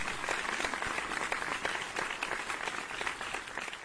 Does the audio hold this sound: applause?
yes